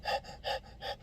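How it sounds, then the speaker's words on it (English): A person gasps for air three times in quick succession, each a sharp, breathy intake separated by brief pauses, close and alone with no talk. "I'm puffing and panting and like gasping for air"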